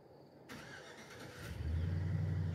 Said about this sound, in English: My neighbor just fired his truck up though.